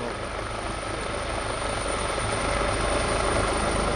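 An HH-139 search-and-rescue helicopter hovers close by during a rescue demonstration at the Jesolo air show, its loud steady rotor and engine roar filling the air with a constant, unbroken wash of noise.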